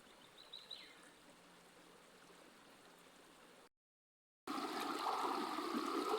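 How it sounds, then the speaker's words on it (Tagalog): Steady rushing river water, quieter at first, then a brief dropout before the flow returns much louder as a full, broadband roar of a strong, muddy current. "malakas na yung agos ng ilog"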